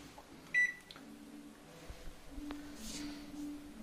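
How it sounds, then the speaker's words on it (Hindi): An LG microwave oven set to convection preheat gives a single short, clear electronic button beep, followed by a fainter click against a quiet room hum. "माइक्रोवेव को प्री हीट पे लगाएंगे, कन्वेक्शन पे जाना है आपने"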